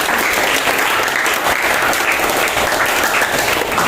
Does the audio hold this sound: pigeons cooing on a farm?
no